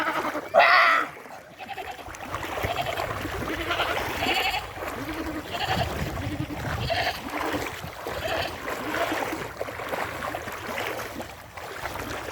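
Goats on a farm in Palawan give a brief, loud bleat near the start, followed by outdoor commotion and people talking throughout.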